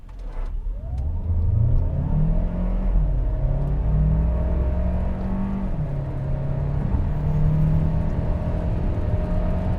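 A 2023 Hyundai Santa Fe plug-in hybrid accelerates hard, its engine note climbing steadily with a whirring electric undertone, loud and close for the whole stretch with no talking.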